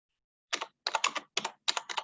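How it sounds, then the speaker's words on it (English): Typing on a computer keyboard picked up by an unmuted microphone during an online meeting: quick bursts of clicking keys in four or five short clusters, close and crisp, with no talking. "I've just got some typing going on."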